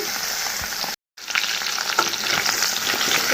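Taro (kochu) pieces fry in a pan with a steady, close sizzle and occasional stirring scrapes, briefly cut by a moment of silence before the frying resumes.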